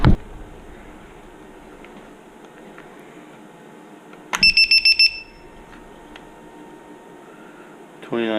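Soft background hum and faint talk, then a short run of rapid, high-pitched electronic beeps from a battery voltage checker buzzer, about five pulses, before quiet returns.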